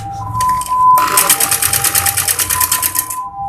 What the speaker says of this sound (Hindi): सबसे पहले हम ये जो कंधों की सिलाई है ये लगाते हैं।